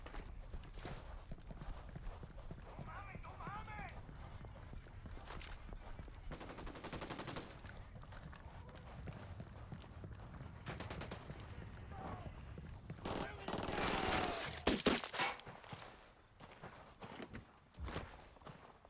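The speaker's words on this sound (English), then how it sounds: "I'm opening fire." Scattered gunfire in the shooter Ghost Recon Wildlands, fairly faint with brief bursts spread across the stretch and a louder cluster of shots late on, mixed with game ambience and short bits of talk.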